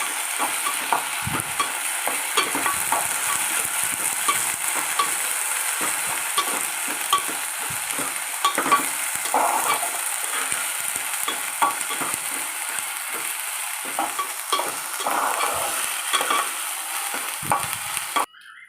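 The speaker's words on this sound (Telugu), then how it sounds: "ఇలా ఫ్రై చేసుకోవాలి ఫ్రెండ్స్ అల్లం వెల్లుల్లి పేస్ట్ వేసుకోవాలి దాన్ని కూడా బాగా కలుపుకోవాలి" Ginger garlic paste sizzling in hot oil for a raw prawn curry while a spoon scrapes and stirs it around the pan, a steady crackling fry punctuated by frequent scraping strokes, with no talk.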